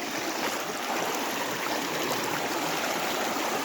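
Stream water flowing steadily in a continuous close rush and gurgle, with no voices.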